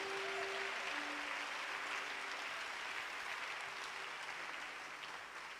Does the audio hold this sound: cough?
no